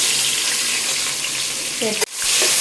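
Onions and whole spices (cinnamon, bay leaf, stone flower, cardamom, cloves) fry in a pan for a mutton liver and paneer pulao, giving a steady loud sizzle that ends in a sharp clunk before the hiss resumes.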